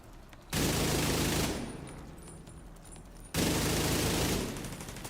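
Sniper gunfire in the video game The Division, two loud bursts of rapid shots with a ringing tail between them, close and harsh.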